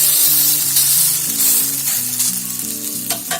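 Bottle gourd dhirde, savory pancakes, frying in a little oil on a pan, a loud continuous close-up sizzle with hiss, over faint background music and no talk.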